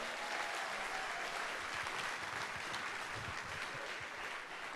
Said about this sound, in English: Let's give Choice a big round of applause.